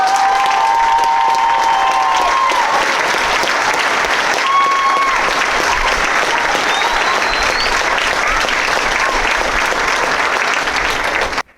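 A large audience at a military citizenship ceremony for Golf and Oscar Company claps loudly and steadily for the new citizens, a sustained round of applause with a few faint whistles and cheers mixed in.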